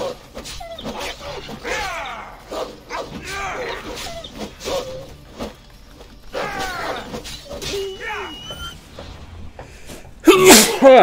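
A single loud, close sneeze blasts straight into a microphone near the end, after a stretch of assorted mouth sounds and low vocal noises.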